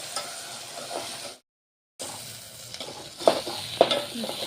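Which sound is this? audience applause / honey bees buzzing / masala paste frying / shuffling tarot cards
masala paste frying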